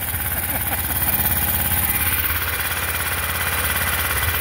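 An old ETQ 6000 portable generator engine runs after a carburetor fix, a loud steady throbbing drone with an even rhythmic chug throughout, close by and with no talk over it.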